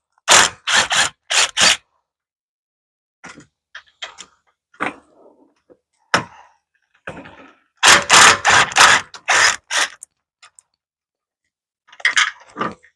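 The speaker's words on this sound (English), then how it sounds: "I'm just using an impact and a 14 millimeter impact socket." A cordless impact wrench with a 14 mm impact socket removes bolts while a power tongue jack is installed on a travel trailer, giving several short, loud rattling bursts separated by pauses and quiet handling noises.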